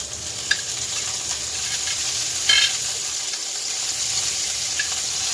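Mushrooms and broccoli sizzle steadily as they are stirred in a pan for chicken over rice, a continuous hiss with a few soft clinks and scrapes of the utensil.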